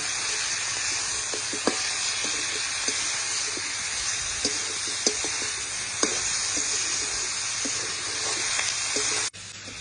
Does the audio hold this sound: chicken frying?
yes